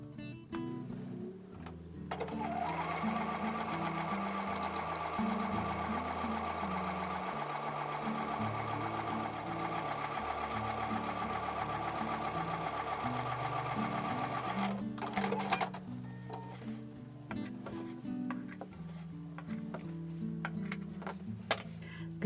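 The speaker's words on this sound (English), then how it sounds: "I'm going to take these back over to the sewing machine and sew a 1/4 inch away on both sides of the drawn line." Sewing machine running steadily for about twelve seconds while stitching a flying geese quilt block a quarter inch from a drawn line, a busy mechanical whir with rapid needle ticking, then stopping and restarting in shorter bursts.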